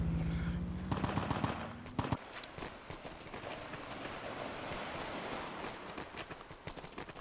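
Rapid automatic Sten gun fire in a D-Day war video game, dense bursts of shots rattling continuously for several seconds amid battle noise.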